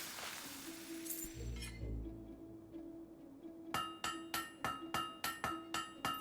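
Hammer striking a blade at a forge in the Fable 3 video game: a run of bright, ringing metallic clangs at a steady rhythm, close and loud, following a quieter stretch with a hissing burst.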